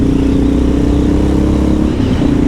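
A Honda XR650L motorcycle with a Lexx exhaust idles in a steady, loud, rumbling drone, close by and continuous with no talking.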